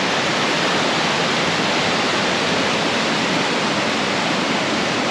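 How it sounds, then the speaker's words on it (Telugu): Small waterfalls along a mountain trekking trail in Los Dinamos, Mexico, pour as a steady, loud broadband rush of falling water that holds evenly from start to end with no voices. "ఇక్కడ చూసుకుంటే బ్యూటిఫుల్ చిన్న కుట్టి వాటర్ ఫాల్స్"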